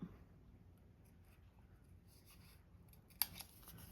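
Scissors snip notches from the edge of a coffee-dyed journal card, a faint light rustle of paper followed by one crisp close cut near the end in a quiet room.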